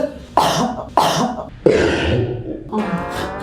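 A series of loud, close coughs, three sharp bursts followed by a rougher, throaty one, with no talking.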